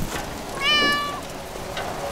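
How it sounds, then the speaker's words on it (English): A cat near baby goats gives a single clear, mid-length meow, fairly close and distinct over a low background hum. "Uh-oh, they see the cat."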